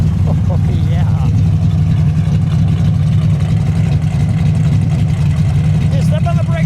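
A 1969 Dodge Dart GTS with a 340 V8 and headers idles steadily with a deep, lumpy low rumble, loud and close throughout, while people talk faintly in the background.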